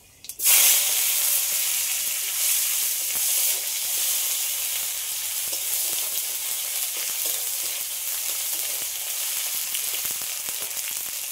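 Panch phoron and chopped tomato hit hot oil with a sudden loud hiss that settles into a steady, close sizzle lasting throughout.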